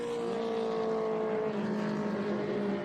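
Race cars circulate at Laguna Seca during the Velocity Invitational, a continuous distant engine drone with a sustained whining tone that holds steady and shifts slightly in pitch.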